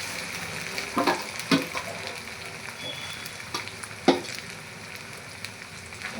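Fresh turmeric fries and is stirred in a pan with lemon, chili and garlic, a steady soft sizzle broken by a few sharp scraping stirs.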